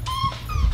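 A dog lets out a brief, thin, high whimper that rises and falls over less than a second, heard close over a low indoor background hum.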